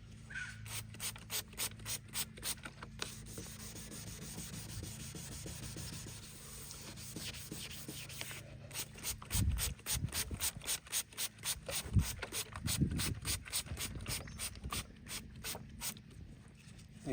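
A car headlight lens being hand sanded with sandpaper, close and steady, with fast rhythmic back-and-forth strokes that continue almost unbroken, briefly pausing and then growing rougher and louder in the second half.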